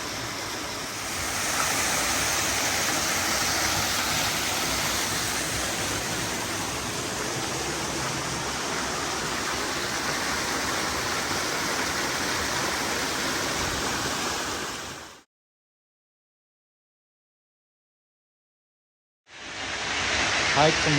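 Steady, broad rushing of a hiking-trail waterfall at Switzer Falls, California, pouring down into a small pond, heard close and continuous before cutting to silence, then returning briefly.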